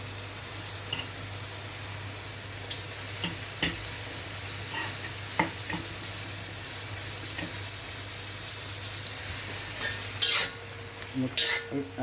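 Vegetable chop suey with sayote and carrots stir-fried in a hot pan, a steady loud sizzle throughout with scattered spatula scrapes and clinks, heavier stirring bursts near the end.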